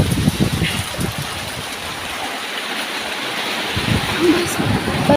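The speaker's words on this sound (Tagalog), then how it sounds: "sobrang lakas ng ulan" Heavy rain pours down in an open farm field, a loud, continuous hiss and splatter close around, with a voice talking over it early on and again near the end.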